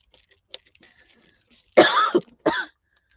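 A person coughs twice nearby, two loud harsh bursts a moment apart, after a few faint rustles and a small click in an otherwise quiet room.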